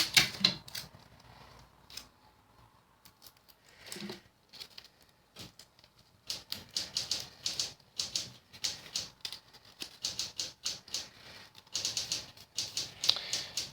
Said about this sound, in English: hold it in this position, and tape it down.